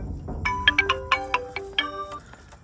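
A mobile phone ringtone for an incoming call, a bright melodic run of tones that sounds once and then fades, close and clear over quiet room noise.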